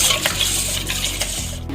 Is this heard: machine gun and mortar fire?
no